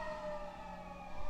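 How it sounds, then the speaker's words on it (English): A siren sounds in the distance outside a hillside town, heard as a faint, steady sustained tone held through the brief moment. "I'm sure you can hear that siren."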